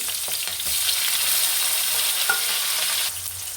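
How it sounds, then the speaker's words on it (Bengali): Bay leaves, dried red chillies and cardamom dropped into hot oil, a sudden loud sizzle that holds for a few seconds then settles, with light stirring scrapes close by and no voices. "আমি ওই তেলে তেজপাতা শুকনো লঙ্কা এলাচ আমি ঢেলে দিলাম"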